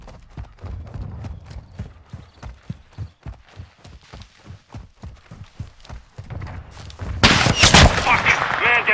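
In Call of Duty Modern Warfare II, a steady run of rhythmic thumps gives way to a sudden loud crack from a rooftop sniper, followed by a harsh, noisy burst.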